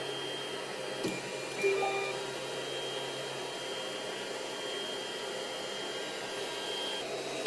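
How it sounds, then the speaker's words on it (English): 3D printer motors moving, a steady whirring hum under a constant fan-like whoosh, with a couple of faint clicks near the start, close and even throughout. "So now let's move some motors and see how it goes from there."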